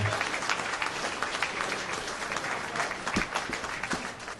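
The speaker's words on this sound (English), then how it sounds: "let's give a nice round of applause" Dense applause from a large crowd at a fire company's 100th anniversary gala, continuous and fairly loud, with many hands clapping at once.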